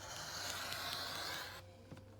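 A rotary cutter slices through quilting fabric on a cutting mat, a steady close scraping swish lasting over a second, then stopping, followed by a faint click.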